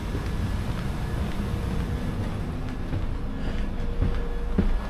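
A London Underground train runs with a continuous low rumble and rattling of the carriages, steady and fairly loud throughout, with no talking.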